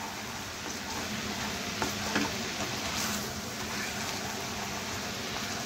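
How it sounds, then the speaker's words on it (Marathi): A spiced black grape syrup mixture with roasted cumin powder, red chilli and salt is stirred in a pan, giving a steady soft scraping and faint sizzle throughout, with no talking. "आता हे आपण व्यवस्थित मिक्स करून घेऊया।"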